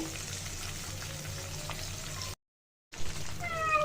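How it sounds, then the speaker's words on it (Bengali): Dhakaiya-style chicken chap fries in a pan of oil over medium heat, a steady close sizzle that cuts out briefly to silence and then resumes a little louder. "মিডিয়াম জালে রেখে চিকেনগুলো একটু সময় নিয়ে ভেজে নিতে হবে"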